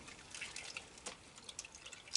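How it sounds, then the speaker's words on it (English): Dasani bottled water being poured, a faint, quiet trickle with soft dripping and splashing throughout. "I got to pour my little Dasani"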